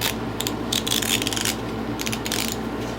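Wrench turning the distributor hold-down bolt on a 1950 Ford flathead engine, giving quick ratcheting clicks in short bursts with scraping metal in between, close and fairly quiet over a steady background hum.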